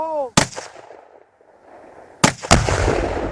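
Fifteen pounds of Tannerite detonates on a frozen pond: a loud, sharp blast followed by rumbling, then two more heavy impacts as debris and ice chunks crash down nearby, with a brief voice at the very start.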